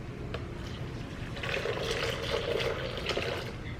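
Hot water, about two cups, pours into a blender of cashews for a vegan sauce, a steady soft splashing fill that runs low and close for a few seconds with no talk over it.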